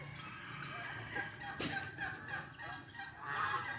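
Faint honking calls from geese, turkeys and bantam chickens in the distance on a farm, a few brief squawks scattered over a quiet outdoor background.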